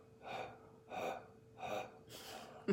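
Slow, deep breathing during a breathing exercise: four long, soft breaths drawn in and let out one after another, close and quiet.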